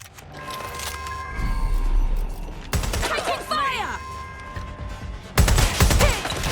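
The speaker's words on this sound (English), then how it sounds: "Incoming fire! I've been shot! I need backup now! They're shooting!" Enemy gunfire in the Watch Dogs: Legion video game, loud bursts of rapid shots arriving in waves, with a sharp new volley near the end, while a voice calls out amid the shooting.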